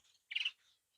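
A single short bird call rings out in an aviary housing many bird species, a bright chirp lasting about a quarter second that stands out above faint, quieter twittering before and after it.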